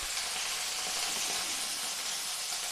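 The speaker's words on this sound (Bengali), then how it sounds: "এবার মাছ আমি ভেজে নেব।" Hilsa tail and bata fish pieces frying in oil in a pan, giving a steady, dense sizzling hiss that stays even and moderately loud throughout.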